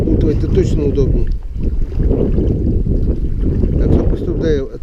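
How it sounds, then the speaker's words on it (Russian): Wind gusts over a lake during spring net fishing, a loud continuous rumbling buffet across the microphone with faint splashing and a voice briefly audible beneath it. "Ветер поднялся."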